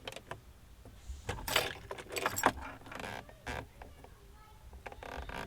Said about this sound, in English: So we'll go ahead and get the key turned on.